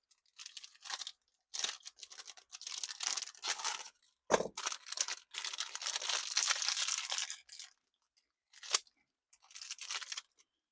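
Close, quiet crinkling and rustling of plastic packaging comes in bursts, with a sharp snip of scissors cutting through partway along.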